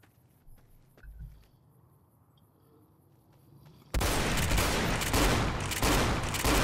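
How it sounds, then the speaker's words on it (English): Sustained roaring burst of a modded fire shotgun in Fallout, erupting loud and dense after a few seconds of quiet footsteps and faint ambience, continuing to the end without talk. "Fire shotgun."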